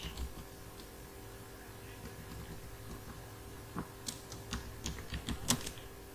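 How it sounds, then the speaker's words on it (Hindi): Someone types a net user command on a computer keyboard in Windows: quiet clicking keystrokes, sparse at first, then a quicker burst of sharper taps near the end, close and without talk. "इसके लिए लिखेंगे कमांड नेट यूजर"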